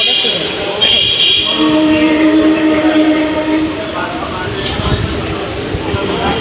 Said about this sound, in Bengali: আমাদের ট্রেন এসে গেছে এখন। তো আমরা ট্রেনে উঠে পড়ি।